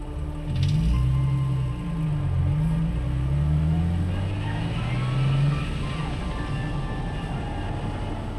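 A Nissan 350Z with newly fitted Akebono brakes drives on a road, its engine a steady low hum that rises and falls with throttle over continuous tire and road noise, close and fairly loud.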